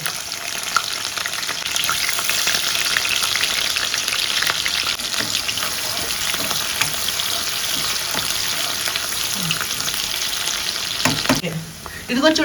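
Red chillies and chopped onions fry in hot oil in a pan, a steady loud sizzle running unbroken throughout with a few faint clinks near the end.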